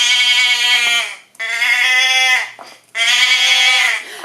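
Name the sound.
sheep bleating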